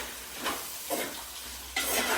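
Sliced onions fry in a clay pot for a paneer mushroom kadai masala, giving a steady broadband sizzle that swells in a few bursts as they are stirred, with no voices.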